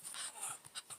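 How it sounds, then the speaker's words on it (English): A dog pants close by in a quiet room, a run of quick breathy huffs with a few short scratchy bursts as it itches itself, no voices over it. "my dog's in the room with me making lots of noise. Itching himself."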